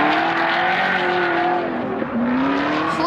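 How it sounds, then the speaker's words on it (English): A BMW E36 drift car on a competition qualifying run, engine roaring continuously at high revs with harmonic tones that rise and dip, loud and steady throughout with some tire noise. "Nikolai Gorkovenko from Carville Racing is beginning his qualifying run."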